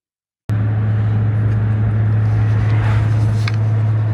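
A Nissan GTR on a test drive, its engine droning steadily and loudly from inside the cabin after an abrupt start, a constant low hum with road noise and no talking.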